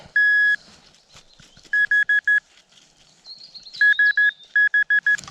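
Several short, high electronic beeps from a metal detector in quick bursts of three and four, signalling a high but shallow target in a forest in Warmia, Poland, separated by gaps with faint rustling and a brief warbling tone in between.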